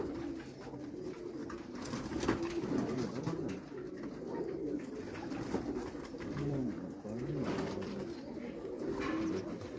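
Pigeons, kept and flown by Punjabi pigeon fanciers, coo in soft repeated low throaty rolls that overlap steadily throughout, fairly close, with a faint background hum.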